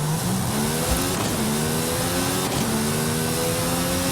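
Ferrari P4 racing in a video game, its engine a loud continuous roar with rising and falling pitch as it shifts and revs, close and steady for a few seconds.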